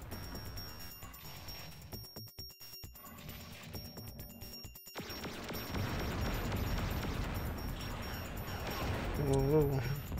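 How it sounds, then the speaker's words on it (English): Missile explosions in the video game Descent come as dense rumbling booms and bursts over a steady electronic game soundtrack, and they grow heavier and louder toward the end. "It's getting hit behind me from the explosions."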